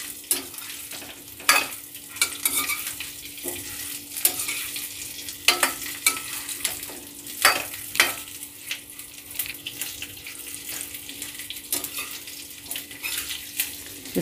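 Raw mango pieces fry lightly in a pan, with a soft steady sizzle and frequent sharp scraping stirs recurring irregularly over a long stretch, no talking.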